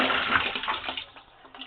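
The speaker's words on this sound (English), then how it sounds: "Sorry about the noise with the water." Water gushes steadily into a tub while wool fleece is washed, a broad hissing rush that slowly eases and thins toward the end, with no talking.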